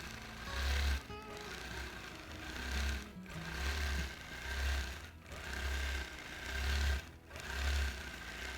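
A sewing machine runs in bursts while quilting all-over feather motifs through a quilt with thread and batting, its low motor hum pulsing on and off roughly every second, close and steady, with no talking.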